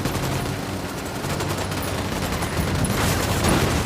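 Sustained gunfire volley in the tactical shooter Ghost Recon Wildlands, a dense, continuous crackle of rifle and machine-gun shots close by during an assault on a cartel position, loud throughout and building slightly toward the end.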